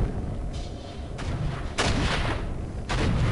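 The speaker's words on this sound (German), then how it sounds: "Oh, Kanonen. Oh, aufpassen." Cannons fire in the Baldur's Gate: Dark Alliance video game, three or four heavy booming blasts spaced about a second apart, each a loud broadband burst that rumbles on over a noisy background.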